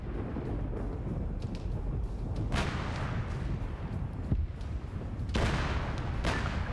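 Artillery bombardment in a video game rolls on as a continuous low rumble, broken by a few deeper booms that sound distant and heavy.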